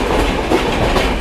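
Rajdhani express trains crossing at speed between Narela and Azadpur, a loud, close, continuous roar of wheels clattering over rail joints in quick rhythmic clicks.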